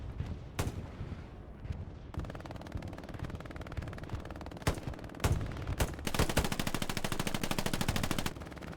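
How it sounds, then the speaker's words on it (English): Gunfire in a WWII-era multiplayer war game battle at Carentan: scattered single shots and sharp cracks, then a sustained rapid machine-gun burst toward the end, moderately loud with no talk. "It's Smokey trying to get some shots down onto Denny there."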